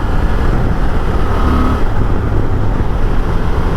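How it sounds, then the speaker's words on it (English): Honda Transalp motorcycle engine revving under way, a loud continuous engine roar with wind and road noise, rising slightly in pitch before levelling out. "So the rev's out nicely"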